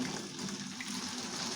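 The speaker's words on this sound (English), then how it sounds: "I'm going to put in very hot water" Very hot water pours steadily onto plain white sugar for home distilling of molasses wash, a continuous close gushing splash with no talk.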